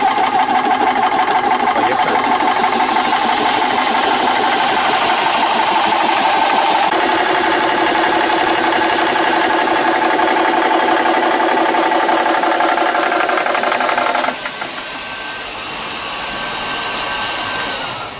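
An air compressor with cooling fans runs steadily, filling an FX Impact PCP air rifle with a 0.48 L cylinder from 150 to 250 bar; a loud continuous mechanical whine and hum that shifts tone partway through, then drops to a quieter fan drone.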